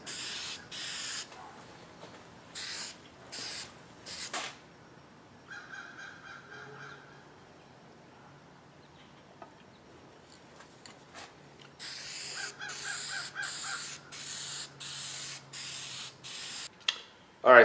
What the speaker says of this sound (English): now you spray it with a color of your choice, preferably like a silver or a red